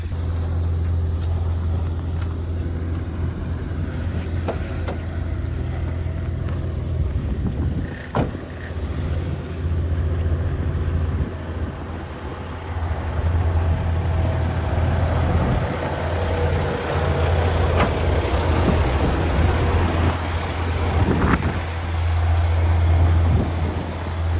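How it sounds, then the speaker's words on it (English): A dump truck drives down a road in blizzard conditions, giving off a steady, loud, low engine drone that runs unbroken throughout with no talking. "Dump truck's coming down the road."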